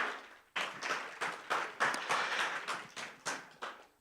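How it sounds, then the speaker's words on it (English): Applause for a troupe of Sarakasi dancers at an investment conference in Kenya, heard as bursts of clapping that rise, fade and swell again in a steady pulsing pattern, fairly close, with no talk over it. "let's give a proper round of applause to Sarakasi dancers."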